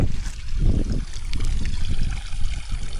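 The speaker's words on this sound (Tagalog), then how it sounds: "Yan na lang yung tubig ng sapa." Creek water trickling and dribbling into an irrigation channel during a dry spell, a steady low watery babble with soft splashes, continuous and fairly close, no talking.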